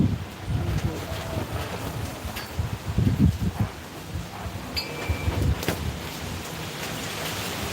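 Gusty outdoor wind buffets the microphone with steady low rumble and rustle, swelling in irregular gusts throughout.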